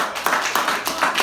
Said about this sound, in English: You guys clap it up one more time for